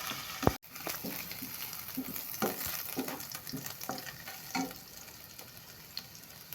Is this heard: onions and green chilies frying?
yes